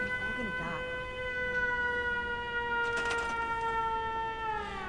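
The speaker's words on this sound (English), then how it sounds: "the door closes, the siren comes on" A wavering electronic siren in a video game wails continuously at a steady level, with faint clicks and rustles underneath.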